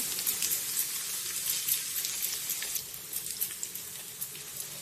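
Sliced onions frying in a pan until browned for kesari fried rice, giving a steady close-up sizzle with a continuous hiss and small crackles throughout, with no talk.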